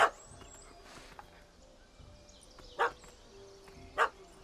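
A puppy gives three short, sharp yips spread across a few seconds, one at the start and two near the end, heard a little way off over a quiet outdoor background.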